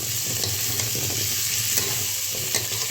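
Earth potato (air potato) pieces fry in hot oil in a pan for a vegetarian dish, giving a steady, close sizzling hiss with a few soft stirring clicks and no talking.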